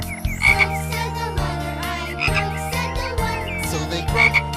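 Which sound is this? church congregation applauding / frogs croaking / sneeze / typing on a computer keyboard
frogs croaking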